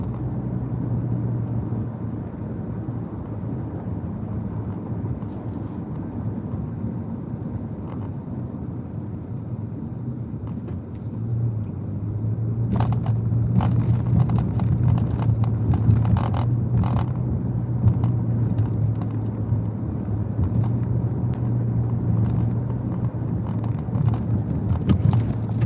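A car drives over a rough, potholed road, with steady low road rumble and engine noise and scattered rattles and knocks from the cabin that grow louder partway through.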